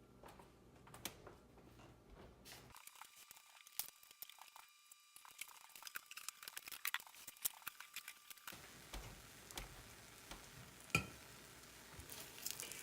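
Eggs cooking in a pan for potato eggs give a faint, steady sizzle with scattered small pops and ticks, quietening in the middle stretch before the crackle returns.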